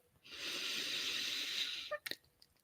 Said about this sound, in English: And breathing in.